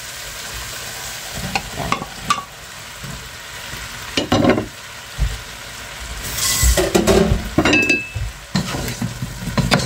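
Tomatoes are stirred into a hot frying pan in a home kitchen. Sizzling runs throughout, with scraping stirs and light clinks of a utensil against the pan, and one brief spoken word.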